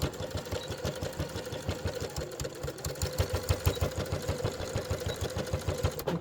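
Close-up sewing machine stitching a fabric bag, a fast steady pulsing chatter of the needle that runs continuously without talk.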